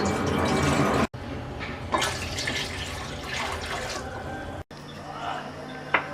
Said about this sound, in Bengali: চুলায় একটা হাঁড়িতে দিয়ে দিচ্ছি 1 লিটার পানি।